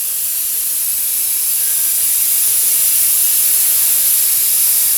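Continuous loud hiss of spray paint being sprayed into water for hydro dipping a deer skull, a close, steady blast lasting the whole stretch with no break and no talking.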